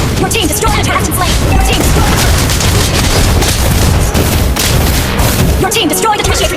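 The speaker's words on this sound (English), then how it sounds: "Your team destroyed the turret and slain." Turret destruction in a MOBA video game, a dense, loud barrage of booming explosive impacts and crackling effects running continuously, with game announcer voice lines layered over the din.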